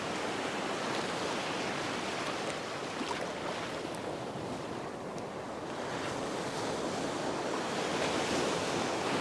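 Ocean waves break and rush along the shoreline in a steady roar, with gusty wind buffeting the microphone throughout and nobody speaking.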